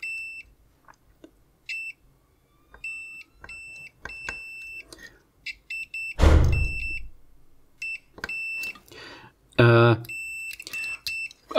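Continuity beeps from a multimeter testing a cheap, shoddy mains plug adaptor, heard as several short steady electronic tones interspersed with a loud crackle and handling noise, fairly close.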